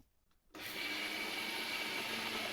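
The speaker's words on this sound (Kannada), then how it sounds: "ಸ್ವಲ್ಪ ಹಾಕೊಂಡು ಈ ಸದ್ದ ಮಿಕ್ಸಿಗೆ ಇಡ್ಕೋಬೇಕು." A kitchen mixer grinder starts after a brief quiet moment and runs at a steady, whirring roar while grinding lentil batter with green chilli, ginger and coconut.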